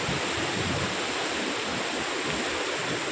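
Floodwater on the Peddavagu stream pours over a government-built check dam with a dense, constant roar of rushing water. It is loud and continuous, with wind buffeting and no voices.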